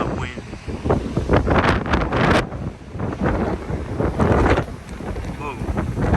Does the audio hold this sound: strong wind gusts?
yes